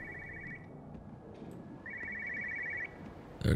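A phone rings in the Everybody's Gone to the Rapture video game, an electronic trilling ring in two bursts separated by a short pause, moderately loud over a low ambient hum, ending in a sudden thump.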